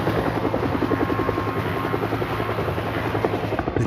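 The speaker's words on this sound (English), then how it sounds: "The team was forced to land the helicopter in a clearing several miles away." A helicopter flies nearby with a rapid, steady rotor chop and engine whine, loud and continuous from start to finish with nothing else over it.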